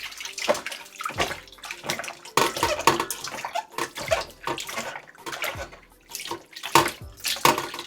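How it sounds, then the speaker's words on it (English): Tap water splashes and runs over cow skin being rinsed in a sink while making Jamaican cow skin punch, with bursts of gushing flow and brief pauses, close and fairly loud throughout. "Just going to give it a quick wash."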